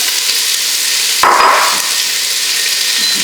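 Onions drop into hot oil and set off a louder burst of crackling sizzle over a steady frying hiss that continues afterward.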